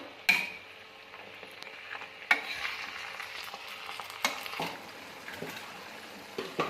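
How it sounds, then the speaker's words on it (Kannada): Ginger, garlic, green chilli and curry leaves being stirred in a pan for tomato chutney, a soft sizzle with sharp scraping knocks of a spoon against the pan at irregular intervals. "ಶುಂಠಿ ಬೆಳ್ಳುಳ್ಳಿ ಹಸಿಮೆಣಸಿನ್ಕಾಯಿ ಕರಿಬೇವು ಎಲ್ಲ ಚೆನ್ನಾಗಿ ಮಿಕ್ಸ್ ಆಗೋವರೆಗೂ ಎಲ್ಲದಕ್ಕೂ ಕಲಿಯೋವರೆಗೂ ಚೆನ್ನಾಗಿ ಮಿಕ್ಸ್ ಮಾಡಬೇಕು"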